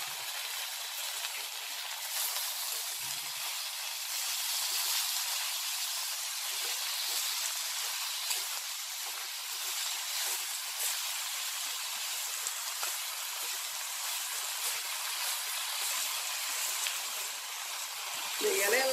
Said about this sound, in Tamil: இப்போ அதில் ஆட் பண்ணி நல்லா வதக்கிக்கிறேன்